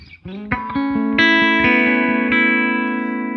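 A Gretsch Country Classic electric guitar on the middle pickup position plays a few distorted ringing notes and chords, each sustaining and layering with a warm, slightly gritty tone.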